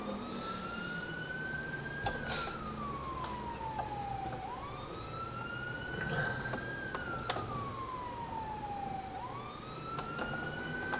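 A police car siren wails in GTA IV, rising and falling in long, steady sweeps at moderate distance over a low traffic rumble, with no talk.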